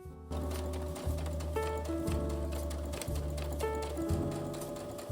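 Sewing machine stitching pink fabric for a mini tote bag, a steady mechanical whirr with a rhythmic, repeating motor pattern running continuously, close and clear.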